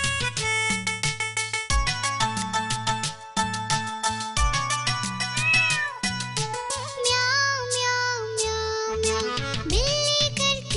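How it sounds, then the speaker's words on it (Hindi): Cartoon-style cat meows repeat in a bouncy rhythm within a Hindi children's nursery rhyme, set against bright musical accompaniment. "बिल्ली करती म्याऊं, म्याऊं म्याऊं म्याऊं म्याऊं"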